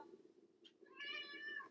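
A person imitates a cat meow once, a drawn-out, tonal cry lasting about a second, heard close and clear over a low background hum.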